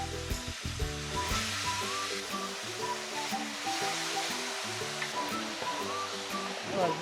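Fish sizzling as it goes into hot oil in a pan for a yam stew, a steady, close crackling fry running throughout with a faint voice underneath.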